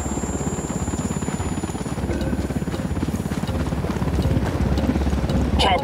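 Enemy helicopter in the video game Ghost Recon Wildlands, its rapid rotor thumping pulsing continuously and swelling slightly louder toward the end, with voices partly layered over it.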